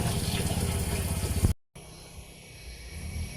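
Water gushes steadily from a newly installed water pump into a large drum, loud and close, then breaks off briefly before a softer flow resumes.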